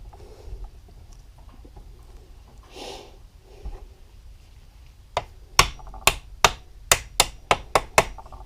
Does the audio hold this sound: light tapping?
yes